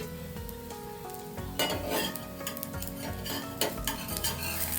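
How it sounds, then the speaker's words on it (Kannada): Ridge gourd dosa cooks with oil in a pan, a steady sizzle under scraping and stirring, with metal utensil clinks and a couple of louder scrapes against the pan. "ಇದಕ್ಕೆ ಸ್ವಲ್ಪ ಎಣ್ಣೆಯನ್ನು ಹಾಕಿ ಮುಚ್ಚಳವನ್ನು ಮುಚ್ಚಿ 2 ನಿಮಿಷಗಳ ಕಾಲ ಸಣ್ಣ ಉರಿಯಲ್ಲಿ ಬೇಯಿಸಿಕೊಳ್ಳಬೇಕು"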